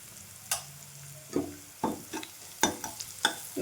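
Ridge gourd pieces frying in oil with turmeric, soft sizzling under intermittent scraping and stirring strokes of a spatula in the pan, close and fairly quiet.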